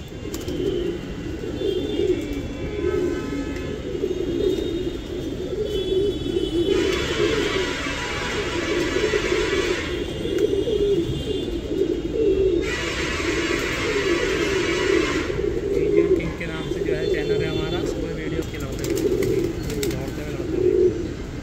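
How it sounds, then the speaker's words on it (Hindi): Gardaan pigeons coo in a loft in Amroha, a continuous close chorus of low throaty rolling coos from many birds, with brief bursts of higher background noise and occasional faint voices. "गर्दान कबूतर है"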